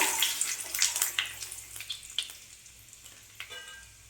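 Panch phoron and bay leaves hit hot oil and sizzle loudly and close, with crackles and pops that fade gradually over a few seconds.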